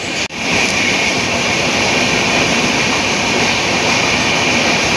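A loud, continuous rumbling roar of the Janmabhoomi Express running through Marripalem railway station without stopping, steady and close throughout.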